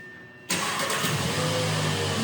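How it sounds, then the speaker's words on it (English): A 2017 Volkswagen Beetle started remotely with its factory key fob: after a quiet moment the engine cranks and catches abruptly, then settles into a steady, loud idle close by. "The vehicle starts right up."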